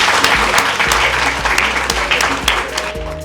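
Audience applause at a speech, dense and steady clapping from a crowd, loud and close for a few seconds.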